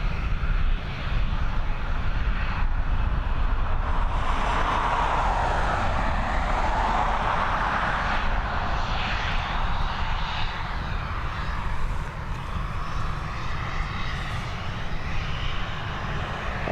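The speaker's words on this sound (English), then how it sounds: "And another 737 departing us next." A Boeing 737 takes off from Dublin Airport, its jet engines a loud, sustained roar that swells and shifts steadily over many seconds as it climbs away.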